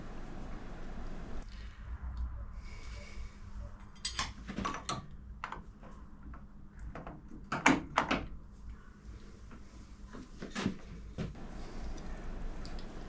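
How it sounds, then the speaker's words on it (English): A mallet taps a hub nut tool on a 1942 Harley-Davidson WLA with a few sharp, close knocks standing out from a quiet workshop background, followed by some lighter clinks of the tool. "A couple of smart taps with the mallet and it's undone."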